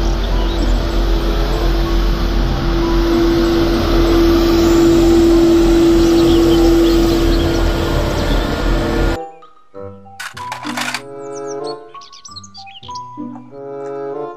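A toy street sweeper truck gives a loud, steady whirring motor drone with a sustained tone for about nine seconds. It then cuts to a short burst of bright chirping, tweeting toy effects.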